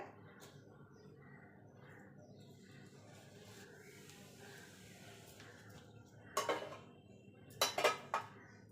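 A knife cuts a tray of soft homemade sandesh into square pieces, with several sharp clicks and taps of metal on the tray near the end after a long stretch of quiet.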